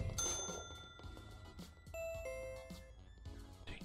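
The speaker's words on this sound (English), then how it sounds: "Ding dong, the doorbell is so annoying." A store doorbell in the King of Retail video game chimes in bright electronic ding-dong tones, several overlapping rings against faint game background sounds, with no talk.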